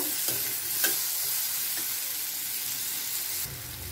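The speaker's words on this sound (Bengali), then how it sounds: "নুন দিয়ে ভালো করে আমগুলো আর একটু ভেজে নেব।" Mango pieces frying with salt in a pan, a steady close sizzle with a few light stirring scrapes and taps, alone without talk.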